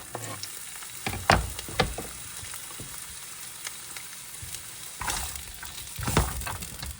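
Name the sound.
carrots sizzling and being stirred in a hot pan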